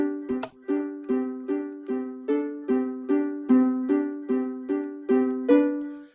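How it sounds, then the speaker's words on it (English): The Pokémon evolution jingle plays on Minecraft note blocks as about thirteen bright, plucked tones. They rise and fall at an even rhythm, each note decaying quickly, clear and alone. "And that is the Pokemon Evolution doorbell."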